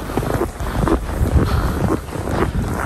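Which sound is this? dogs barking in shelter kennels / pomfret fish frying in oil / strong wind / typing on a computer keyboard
strong wind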